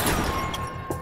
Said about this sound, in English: I hit the bottles, yeah.